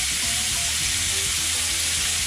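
Butter sizzling with flat iron steak in a hot frying pan, a steady close crackling hiss with scattered pops throughout, no voices.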